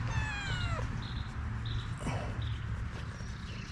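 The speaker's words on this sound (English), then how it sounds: "This is one of our new cats." A young farm cat meows near the microphone, a drawn-out falling meow followed by a few shorter cries over low outdoor noise.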